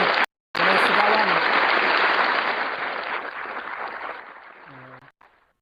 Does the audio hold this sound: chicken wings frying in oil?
no